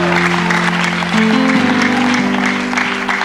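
A church congregation claps loudly and cheers in acclaim of God, a dense, continuous round of applause with sustained organ or keyboard chords ringing underneath.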